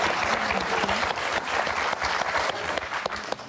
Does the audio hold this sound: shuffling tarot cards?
no